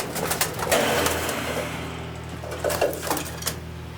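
Racing pigeons in a loft give off low, soft cooing that runs steadily under a busy rustle of wings and movement throughout.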